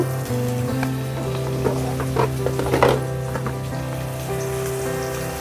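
Tomatoes fry in a pan for Kurnool uggani with a steady close crackle and sizzle, a low hum underneath and a few louder spatters in the middle.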